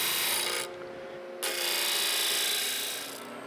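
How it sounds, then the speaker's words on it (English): A sander shapes a plywood-backed aluminum rib web for a P-39 aircraft part, giving a loud, steady abrasive whir that drops out briefly in the middle and then resumes, running alone without voices. "finally shape it to the exact dimensions with the sander"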